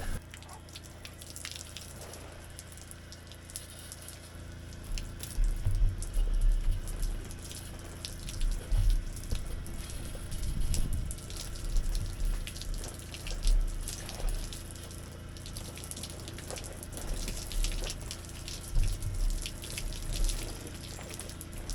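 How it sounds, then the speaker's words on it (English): Water from an outdoor shower at a camp in the desert runs steadily and close by, a continuous splashing stream with a few louder surges, and no talk over it. "Going to take a shower."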